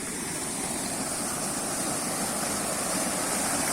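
Fresh, cold mountain stream water rushes steadily along a riverside stop on the road from Chitral to Mastuj, a loud, continuous broadband roar with no break or voices.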